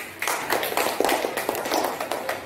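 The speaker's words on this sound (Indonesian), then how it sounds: "Oke, tepuk tangan untuk semuanya." Classroom applause from a group of students, a dense patter of many hands clapping steadily and fairly close for the whole stretch, with no clear speech over it.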